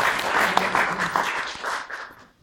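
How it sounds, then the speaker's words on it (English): A live magic show audience gives applause to the sound and light technician. The clapping is moderate and fairly close, with a few voices murmuring under it, and it fades out quickly. "A round of applause, please, for Sound and Light Man"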